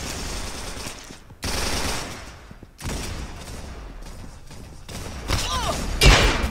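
A Tommy gun fires in the Roblox game Arsenal, with loud bursts of rapid automatic gunfire and heavy thumps that cut in and out between short quiet gaps.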